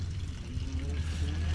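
Rainwater pours and trickles down a sloped drainage path beside a house, a steady low wash running continuously and close by, with faint voices in the background.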